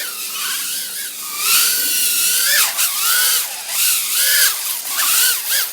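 Brushless motors of a Mobula 7 micro drone whine at a high, steady pitch that bends up and down with throttle changes, close and loud throughout without any voices.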